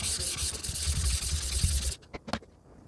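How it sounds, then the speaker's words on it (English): Wet sharpening stone being flattened with a diamond stone, a steady gritty rubbing and scraping that runs loud and close for about two seconds, then stops and gives way to a few short, quieter scrapes. "we're gonna keep sanding the stone with the diamond stone until the net is completely gone."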